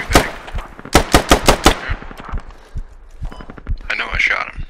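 Rapid bursts of rifle fire crack out in Squad on the Kokan Valley map, a tight string of loud shots followed by scattered single reports and further rattling fire as voices talk over the exchange.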